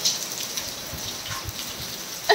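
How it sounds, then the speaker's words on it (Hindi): Rain falls outdoors as a steady, even hiss of many drops, moderately loud and continuous, with a few sharper splashes near the end. "फोन पे भी बारिश पड़ गई"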